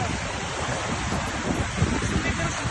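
Sea waves washing onto the shore on the coast at Odesa, a steady broadband roar with gusty wind across the microphone, continuous and fairly loud throughout.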